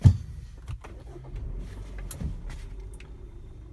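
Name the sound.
Kia Sportage G4KD engine starting, warmed up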